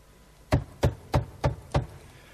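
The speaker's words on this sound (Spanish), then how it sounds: "iba todas las tardes a casa de Celia y llamaba a su puerta" Five evenly spaced knocks strike a door, firm and close, each a sharp thud about a third of a second apart, alone against a quiet background with no talking.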